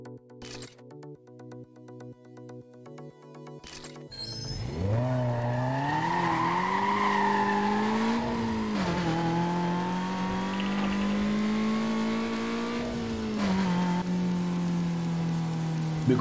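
A Chevrolet Cobalt SS in the Need for Speed Most Wanted racing game: a steady engine drone rises and holds through revs and gear changes, with tire noise, after a few seconds of rhythmic game music.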